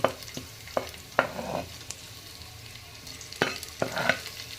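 Chilli, potatoes and tomatoes go into frying onion in a pan for masale bhaat, giving a low steady sizzle punctuated by several distinct clattering drops and stirring knocks, close up.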